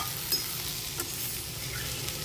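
Cluster beans fry in a pan for a vegetable curry, giving a steady, close sizzle and crackle with soft stirring scrapes and no talking.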